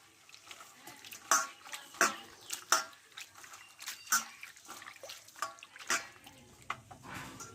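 Water splashes and drips intermittently as pointed gourd stems are rinsed by hand in a kitchen. The splashes come in soft, irregular bursts, close by and fairly faint.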